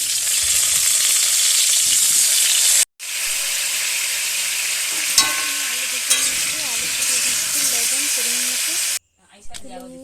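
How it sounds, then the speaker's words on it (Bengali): Potatoes frying in hot oil in a wok, a loud dense continuous sizzle and hiss close up, cut off briefly twice, with faint stirring scrapes partway through. "তেল দিয়ে দিয়েছি এরপরে আলুগুলো ভেজে নেবো"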